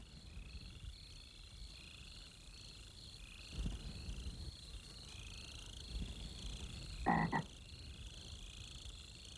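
A toad on desert ground gives a few low, rasping croaks, one near the middle and a louder, stronger burst toward the end, over a constant high insect drone.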